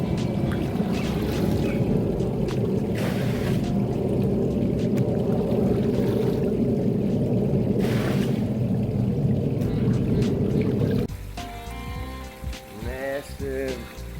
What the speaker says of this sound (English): So we're gonna pump this water out,